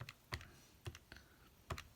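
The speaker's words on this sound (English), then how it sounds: "let's just type that in on the calculator." Four faint, separate key taps on a calculator as numbers are entered, spaced unevenly over a quiet background.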